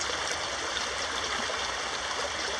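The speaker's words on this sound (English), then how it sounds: "The creek is angry today, so I'll be a bit closer." A swollen, rushing creek pours steadily at close range, a dense unbroken hiss and churn of fast water with no other sounds over it.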